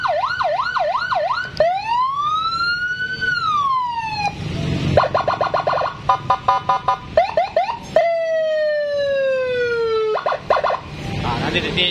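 Police escort style siren fitted to a Honda Beat scooter, sounding loud and close with long sweeping wails alternating with rapid warbling yelps, no talk over it.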